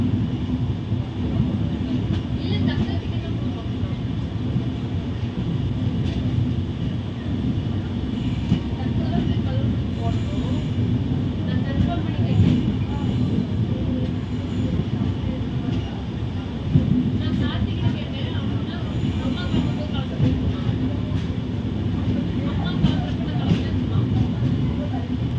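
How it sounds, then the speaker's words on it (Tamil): A passenger train rolls into Eraniel railway station with a steady, loud rumble and rail noise throughout, with faint clanks over the continuous drone. "கரெக்டாக 11:10க்கு ட்ரெயின் வந்து எரணியல் ஸ்டேஷனுக்குள்ளே என்டர் ஆகுது."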